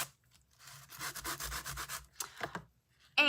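Sandpaper rubbed across a paper card in short, brisk back-and-forth strokes, a close, gritty scratching rhythm with a few pauses between passes.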